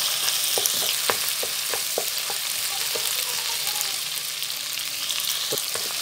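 Finely chopped green chillies frying in a pan for chana pulao, with a constant bright sizzle close by and scattered light taps and scrapes of a spoon stirring them.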